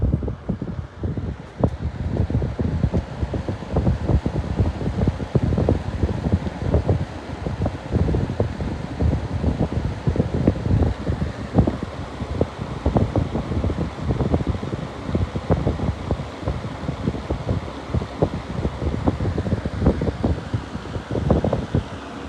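A Berns Fan Mobile rollabout fan running, giving a steady, close, breathy whoosh of moving air with faint fluttering and rustling texture, unbroken and without talk.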